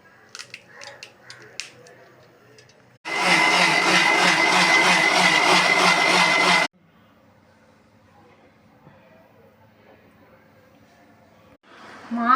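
An electric mixer grinder grinding moong dal dosa batter: one loud, steady whirring roar lasting about three and a half seconds, with a voice talking quietly before it and faint kitchen sounds after it stops.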